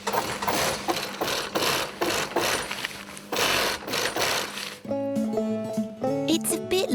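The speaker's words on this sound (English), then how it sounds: "The sewing machine joins at the edges with thread using a special stitch so the material won't tear." An industrial sewing machine stitching hot air balloon fabric runs in a steady, fast mechanical chatter that rises and falls in loud stretches, then gives way to a brief musical tone at the end.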